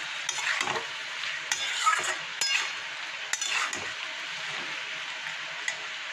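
Poppy seed paste with green chillies is stirred in a pan. A soft sizzle runs underneath, punctuated by a few sharp clicks and scrapes of the spoon against the pan. The sound is close, fairly quiet, and no one speaks.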